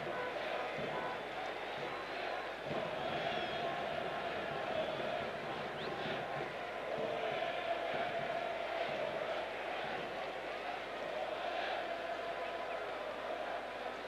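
A football stadium crowd at a Persepolis versus Al-Nassr match keeps up a continuous, distant roar and murmur, swelling slightly at moments, under a commentator's talk.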